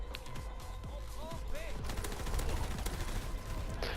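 Rapid gunfire bursts from the World War II shooter Call of Duty WWII, sharp repeated shots over a dense background of battle noise, with someone talking over the action.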